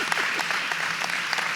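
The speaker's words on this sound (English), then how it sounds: "I want you to give a nice round of applause." An audience at an elementary school ribbon cutting claps together in a brief burst of moderately loud applause.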